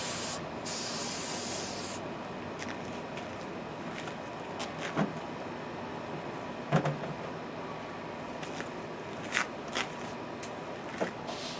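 A single long hiss of insect repellent sprayed onto clothing and boots opens the scene, followed by faint rubbing and handling noises with a few soft knocks.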